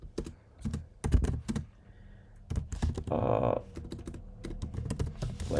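Fingers typing on a computer keyboard, clusters of close key clicks with a quick burst of faster keystrokes partway through, alone with no speech.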